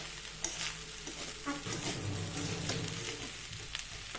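An egg fries in hot oil with a continuous bright sizzle and scattered spitting pops, close and fairly loud, a few utensil taps against the pan, no voices.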